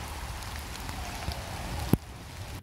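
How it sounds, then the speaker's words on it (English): Steady rain falling outdoors during a walk, a constant soft hiss with a single sharp tap near the end before it thins out. "when we got there, it started raining"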